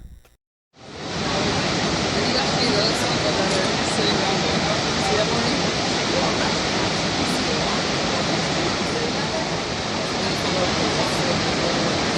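Niagara Falls roaring as a dense, constant rush of falling water, loud and close, starting abruptly and holding steady throughout.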